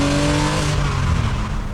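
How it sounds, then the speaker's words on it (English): A Porsche Boxster 986 flat-six engine growls deep and steady around 3000 RPM on a twisty country lane, loud and close with no talk over it. "I love this noise, around 3000 RPM, has a really deep angry growl."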